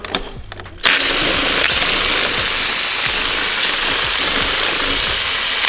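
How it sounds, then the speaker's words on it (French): A power tool unscrews the crankcase screws of a Honda HM motorcycle engine, starting abruptly and whirring loudly and continuously at close range. "on va pouvoir procéder au dévissage"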